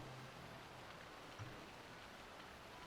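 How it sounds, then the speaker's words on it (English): Steady rain hisses in Final Fantasy XII, a soft, even wash of falling drops heard faintly and without interruption, with one small tap near the middle. "how can you tell me this isn't heavy rains?"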